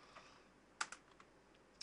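A few quiet keystrokes on a computer keyboard entering a command on a Minecraft server, scattered single clicks with one sharper tap near the middle and another at the end over a faint room hiss.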